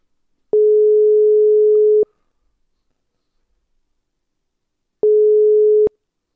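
A WhatsApp call ringing tone: two steady electronic beeps at the same pitch, the first about one and a half seconds long and the second shorter, separated by silence, loud and clean.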